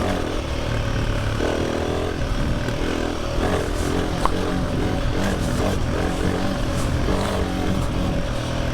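A Himalayan 450 motorcycle on the move gives a steady, close engine drone mixed with wind rush, holding an even loudness throughout without pauses.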